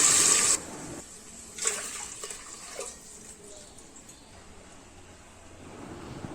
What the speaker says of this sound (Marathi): आता त्यामध्ये टाकते मी दोन ग्लास पाणी